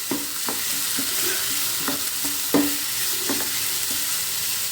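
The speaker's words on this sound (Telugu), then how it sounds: "దీంట్లో 1 స్పూన్ పసుపు అండి, వేసి ఫ్రై చేస్తాను ఇప్పుడు నేను దీన్ని." Mutton keema frying with turmeric in a pan: a steady close sizzle broken by regular scraping stirs about every half second, with no voices.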